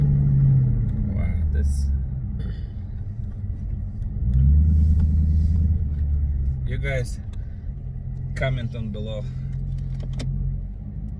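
A Challenger or Escalade with a muffler delete rumbles low and steadily at close range, swelling in a couple of surges, while people talk over it and a few brief clicks and jangles cut in.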